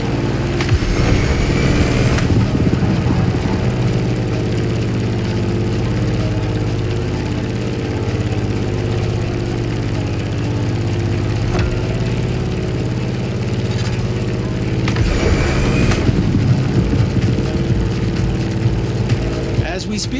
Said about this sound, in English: In the cockpit of a stunning Grumman F8F Bearcat, or simply the Bear.